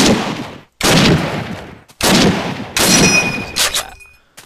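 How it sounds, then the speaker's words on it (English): An M1 Garand rifle in a World War 2 game mod fires several loud, sharp shots, each with a long booming tail, spaced about a second apart with a rattle of follow-up sounds near the end. "my favorite American gun, which is the M1 Garand"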